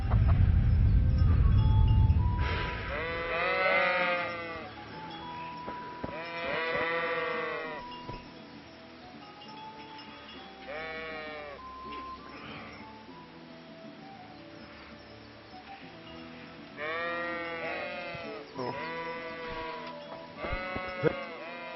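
Repeated sheep bleats in the video game Kingdom Come: Deliverance, several wavering calls spread out over a low rumbling background, moderately loud and near.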